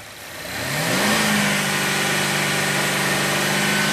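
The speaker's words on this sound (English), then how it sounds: "Now rev it up." A car engine revs up from idle during a hands-on mass airflow sensor test, pitch rising steadily over about a second and then holding at a high, loud, steady drone.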